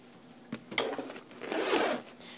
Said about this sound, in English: These compartments are sealed by using YKK brand zippers, which I'll show you right now.